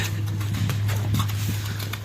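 Hooves of a working horse offered for sale clip-clop at an even walking pace, a brief run of soft, close steps over a low steady hum.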